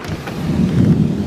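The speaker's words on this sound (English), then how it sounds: "I just needed to show you this rain right now." Steady heavy rain roaring close by on the SUNY Cortland campus, with a deep low rumble of thunder underneath that swells slightly toward the end.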